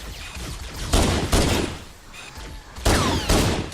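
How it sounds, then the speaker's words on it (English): Bursts of gunfire from shooting aliens in Halo: The Master Chief Collection, loud repeated volleys with sharp impacts and short gaps between them, without any talking. "shooting aliens in the back of the skull"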